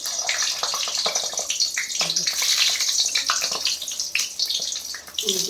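Stuffed capsicums filled with potato are lowered one by one into hot oil, giving a loud, steady, hissing sizzle with crackly bursts that runs continuously close up.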